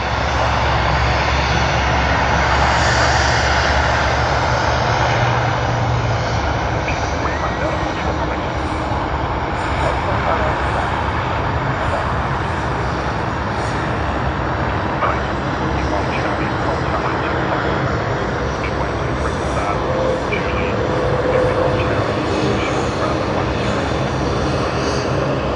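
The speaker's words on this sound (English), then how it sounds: "That's a United States aircraft registered as N332 PM something." A United States-registered airliner at Sydney Airport fills the air with a loud, steady jet engine roar that holds constant for the whole stretch without fading.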